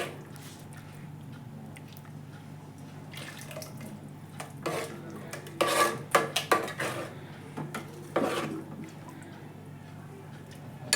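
Mushroom gravy is mixed in a pan, giving wet squelching scrapes that come in irregular bursts through the middle, over a faint steady background hum.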